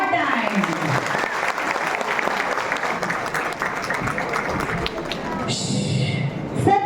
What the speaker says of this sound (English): Give a big clap one more time.